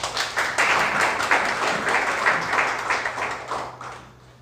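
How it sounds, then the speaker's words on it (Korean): Audience applause at a Democratic Party Jeju chapter meeting of core members, a dense, even round of clapping from a roomful of people that holds steady and then gradually fades, with no talking. "우리 여러분들은 박수 칠 때 정확히 쳐주시는군요"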